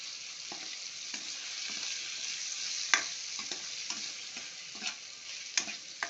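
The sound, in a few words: drumsticks frying in oil while being stirred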